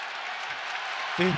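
A packed Breslin Center arena crowd roars steadily during a Michigan State versus Michigan men's basketball game, a dense wash of cheering, with a voice breaking in briefly at the end.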